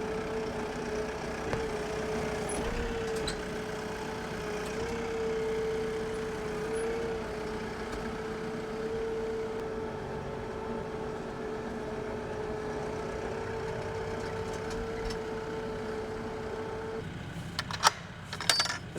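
A tractor engine idles steadily on a farm during hay feeding for a sheep flock, a continuous low drone with a constant hum throughout, ending in a few clanks and rattles near the close.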